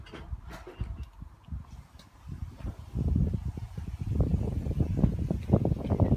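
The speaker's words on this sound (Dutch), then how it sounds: "daar staat nou een beetje veel wind" Gusty outdoor wind rumbles against the microphone, growing stronger and more buffeting in the second half.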